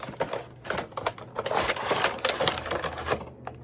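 Side tape being cut open on a Legends Elite John Cena toy figure box, a busy run of close, crackly scraping and snipping textures with repeated sharp bursts, no voices.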